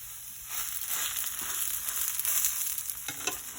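Food sizzles and crackles steadily in hot oil in a pan as it fries crisp, a close, continuous broadband hiss with small pops and no talking.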